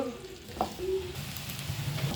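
Pieces of taro root sizzle and crackle in hot oil, a continuous frying hiss with small stirring sounds over about two seconds.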